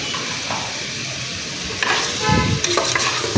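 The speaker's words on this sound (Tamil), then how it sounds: "இப்போ தக்காளி வந்து நல்லா வதங்கி வரட்டும், அது வரைக்கும் நல்லா வதக்கி விட்டு எடுத்துடலாம்" Tomatoes and mint leaves sauté in a pan for a horse gram rice dish, a steady sizzling fry with stirring scrapes that grow louder and busier toward the end.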